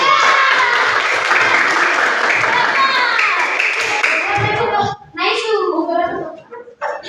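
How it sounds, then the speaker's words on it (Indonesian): Clapping from a class audience for a presenting student group, brisk and fairly close for about five seconds, then giving way to children's chatter and scattered claps. "tepuk tangan untuk kelompok"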